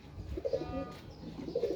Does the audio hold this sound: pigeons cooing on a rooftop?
yes